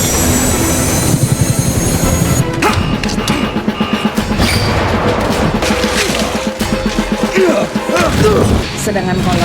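Bomber aircraft roar and crash amid explosive destruction in a battle scene from the film Avatar, a dense, loud wash of engine noise, impacts and debris with a sharp change partway through.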